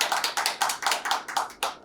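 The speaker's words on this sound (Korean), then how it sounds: "박수!" Rhythmic clapping from a small group opens a metalworkers' union show, steady in tempo for about two seconds with no talk over it.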